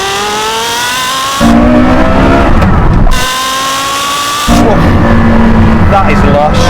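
A Porsche Carrera GT and a Lexus LFA roar loudly through hard acceleration in a drag race, their engines rising in pitch in two revving pulls with gear changes.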